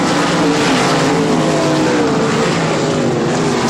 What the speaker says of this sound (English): They are flying around this 1/3 of a mile clay oval.